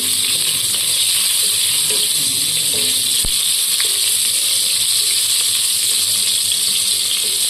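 Shallots sizzling in hot oil with fenugreek for a fish curry, a loud, steady hiss of frying that fills the whole stretch, with one sharp pop partway through.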